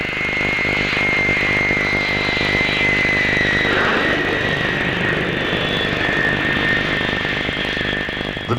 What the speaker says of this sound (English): The Victor B-1 is powered by 4 Armstrong Siddeley Sapphire jets and has immense striking power.